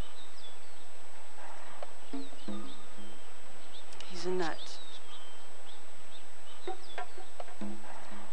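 Birds cluck and chirp around an outdoor spot in The X-Files game, with short scattered calls at a moderate distance, heard alongside people talking.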